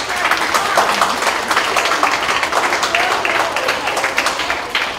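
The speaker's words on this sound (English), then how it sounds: "Give them a round of applause." An audience at a school board meeting claps steadily and fairly loudly for the students of the month, a dense round of applause lasting the whole moment.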